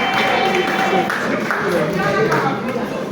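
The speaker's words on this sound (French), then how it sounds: "Encore des applaudissements pour elle, s'il vous plaît." An audience applauds a best actress award winner for the film Skinny. The clapping is dense and sustained, and voices carry on beneath it.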